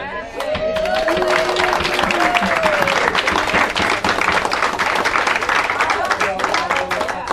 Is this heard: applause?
yes